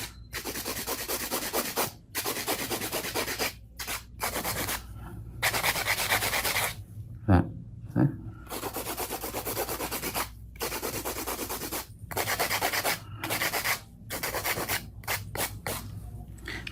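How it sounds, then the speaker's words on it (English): A hand file rasps back and forth across an acrylic nail, smoothing and evening out the surface during a neon pink ombré nail set; steady close scraping strokes in bursts separated by short pauses. "go through a hand file, the thickness, just even out the surface area"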